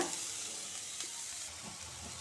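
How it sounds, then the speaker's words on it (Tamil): Grated plantain is stir-fried in a pan, giving a steady close sizzle with a few scraping stirs through it and no talking. "துருவி வச்சுருக்கிற வாழைக்காய் போடுறேன்"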